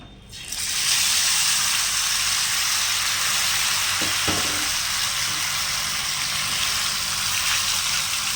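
A whole fish fried in hot oil on a dosa tawa, with a loud, continuous sizzle that bursts up as the fish goes in and holds steady throughout.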